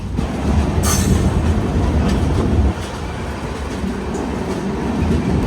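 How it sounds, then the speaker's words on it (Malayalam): The Kochuveli–Amritsar Superfast Express departing Ernakulam rumbles past steadily with a loud, continuous roar, wheels clattering and a brief high squeal near the start. "നമ്മുടെ Kochuveli Amritsar super fast express ഇവിടെ നിന്ന് എറണാകുളത്ത് നിന്ന് പുറപ്പെട്ടിരിക്കുകയാണ്"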